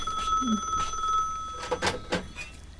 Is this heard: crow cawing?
no